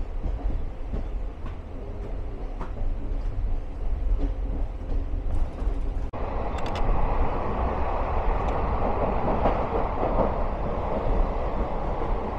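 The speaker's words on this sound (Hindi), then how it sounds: "यहाँ अपनी बिल्डिंग जैसी डबल डेकर ट्रेन निकल चुकी है मुंबई सेंट्रल से" The Flying Ranee, an old non-AC double-decker express train, pulls out of Mumbai Central station with a loud, continuous rumble and occasional clicks and squeals from the wheels.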